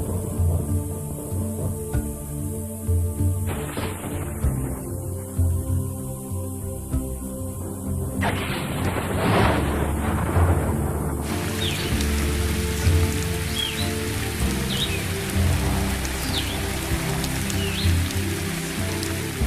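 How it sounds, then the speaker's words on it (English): Heavy rain falling steadily on the African savanna during the season's first big downpour, a dense continuous wash of drops on surfaces throughout with occasional faint birds. No clear thunder claps stand out. "the big thunderstorms, bringing the season's first heavy downpours,"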